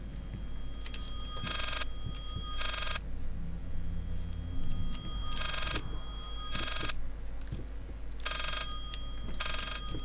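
A telephone in the horror game Layers of Fear rings in repeated paired bursts over a low steady hum, a ring sounding roughly every second or so across the stretch.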